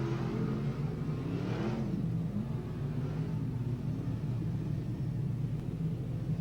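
Sprint cars idle and rumble as they grid up behind a pace vehicle at a Newcastle speedway, a low steady engine drone with a brief surge early on, moderately distant and without talk.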